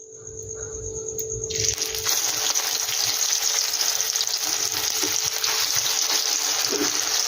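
Stuffed pointed gourd (potol) fries in hot oil, a quieter bubbling that jumps into a loud, steady crackling sizzle after a moment and carries on alone to the end.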